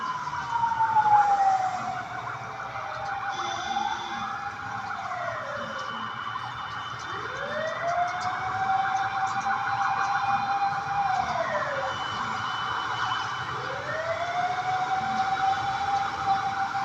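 Several fire truck sirens wail in overlapping rising and falling sweeps, moderately distant, continuing steadily over a low background rumble.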